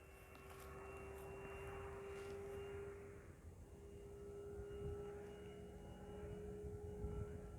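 An FMS F4U Corsair 1700mm RC model airplane drones at full throttle, a steady faint engine whine with a constant tone held throughout, heard from a distance outdoors.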